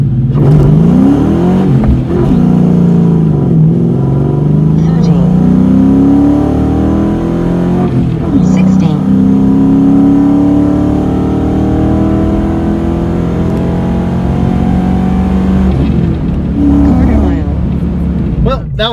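A car accelerates hard in first gear with wheelspin, its engine note climbing in long rising sweeps, loud and close, through repeated shifts over nearly twenty seconds.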